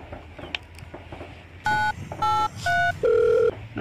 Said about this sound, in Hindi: घंटी जा रही है अभी।